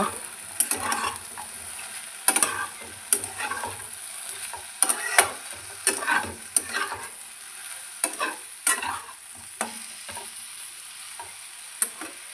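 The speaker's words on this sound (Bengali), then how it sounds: "গ্যাসের ফ্লেম লোতে করে দশ থেকে পনেরো মিনিট সময় নিয়ে নেড়ে চেড়ে ভেজে নেব" Potato and eggplant stir-fried slowly over a low gas flame with no water, a steady soft sizzle broken by irregular scraping and clanking strokes of a spatula against the pan, close and alone.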